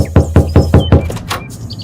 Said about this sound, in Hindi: दोबारा दरवाजा खटखटाता हूँ।